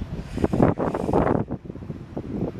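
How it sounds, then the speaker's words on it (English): Strong wind buffets the microphone outdoors at Winding River Park in the New Jersey Pine Barrens, loud rumbling gusts that swell and fade throughout. "A lot of wind blowing here."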